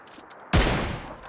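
A single loud burst of gunfire from the video game PUBG Lite, sharp and close, decaying over about half a second after a quiet lead-in.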